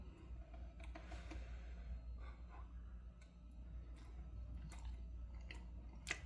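Close, quiet chewing of a bite of Reuben bake made with corned beef, cheese, sauerkraut and mustard, soft moist mastication with faint clicks running steadily for several seconds and no talking.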